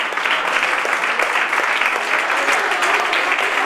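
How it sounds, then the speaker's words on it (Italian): A restaurant audience applauds a karaoke prize winner, a steady, even burst of many hands clapping close by that keeps going without pause. "facciamo l'applauso."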